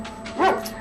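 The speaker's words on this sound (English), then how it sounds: "the attack dogs have finished their morning's training and it's lunchtime" A single short bark or yip from a British Army attack dog at a base in Bosnia, close and sharp, rising briefly above a quiet background.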